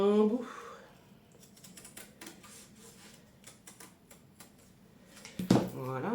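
A large piece of fibre paper being cut, a run of light crisp snips and rustles at close range, with a voice talking at the start and again at the end.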